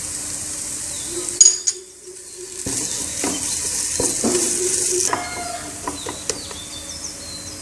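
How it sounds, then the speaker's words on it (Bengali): Garlic cloves frying with whole black cumin in a pan over low heat, a soft sizzle with intermittent stirring scrapes and clinks, close up. "চুলা কম তাপে রাখব এবং রসুনের গা থেকে পানিটা শুকিয়ে নেব"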